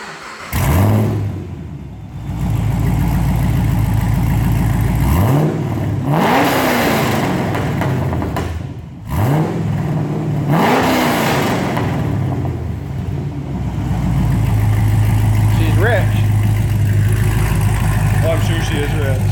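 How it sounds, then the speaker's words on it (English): A Chevrolet Camaro with a new aftermarket Manzo exhaust revs hard several times in loud bursts, rising and falling, with a raspy exhaust note and voices talking nearby. "I want to videotape the revs, new exhaust"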